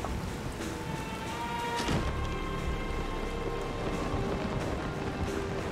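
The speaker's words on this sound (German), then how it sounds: "wir können nicht mehr klettern, es regnet" Steady, fairly loud rainfall in the video game The Legend of Zelda: Tears of the Kingdom, a continuous hiss with a single thunder-like crash early on, layered over soft sustained background tones, no voices.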